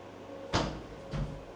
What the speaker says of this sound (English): So you close the door.